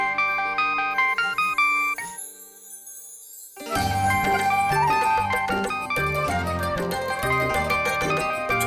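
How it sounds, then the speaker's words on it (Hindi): Phone ringtone playing a bright melodic jingle of repeated chiming notes, briefly dropping out before resuming louder and continuing steadily with no voices. "फोन की घंटी कहाँ से आ रही है?"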